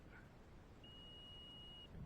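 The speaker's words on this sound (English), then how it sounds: "so we do want to hear a beep" A continuity tester gives one clean, steady high-pitched beep lasting about a second, sounding over a quiet background hiss when two wires of a 6 gauge 3-strand cable with ground are twisted together and shorted at the far end.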